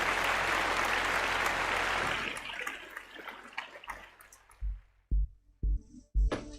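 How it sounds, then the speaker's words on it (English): An audience gives a round of applause during a paranormal and supernatural open-line show. The clapping is full at first, then thins and fades out after a couple of seconds, followed by a few short, sharp knocks in near silence. "let's give her a round of applause"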